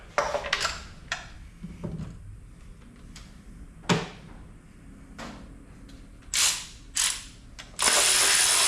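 Ratchet clicks from a Matco SP3928 spark plug socket on a Chrysler PT Cruiser's plugs, heard as several separate bursts of sharp clicking that end in a longer, louder run of ratcheting.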